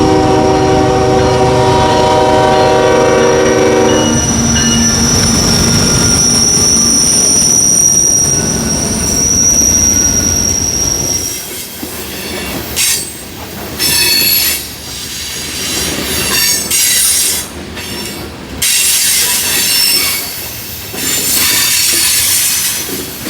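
Freight train hauled by Union Pacific and Illinois Central GE locomotives, loud and close, with droning engines and a horn blast first, then long screeching wheel squeals and clanking cars rolling past.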